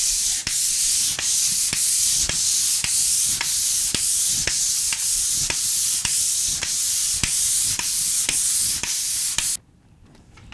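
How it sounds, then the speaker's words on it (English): A drywall skim coat is sanded by hand with sandpaper in steady, rhythmic back-and-forth strokes, a close, loud scratchy rasp repeating roughly twice a second before stopping abruptly near the end. "So I'm going to go ahead and sand that, show you how to touch it up, and show you the final result."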